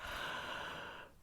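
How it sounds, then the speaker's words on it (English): A single long yawn during a pre-dawn meditation, a breathy, drawn-out exhale that fades gradually over about a second, close and soft. "a yawn is pretty appropriate here for me"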